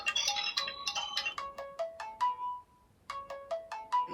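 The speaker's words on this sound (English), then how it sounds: "those are just some of the old sounds on this phone." Original Android ringtone playing on an HTC Wildfire S phone from 2011, a bright electronic melody of quick chiming notes that pauses briefly and then repeats, clear and close with no talk.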